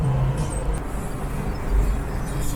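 A VW bus cruising on a highway at about 60 mph, heard from inside as a steady, loud low engine drone and road rumble with no talking.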